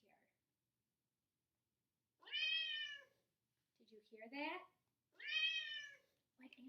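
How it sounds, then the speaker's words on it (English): Two clear meows from a cat, each about a second long, separated by a pause filled with a spoken question, close and loud. "And this is a cat,"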